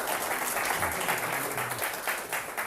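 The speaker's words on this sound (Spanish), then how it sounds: "Un aplauso para Navarrete." A lecture-hall audience applauds for a guest after an economics class: a short burst of dense, even clapping from many hands, fairly close and steady for under three seconds.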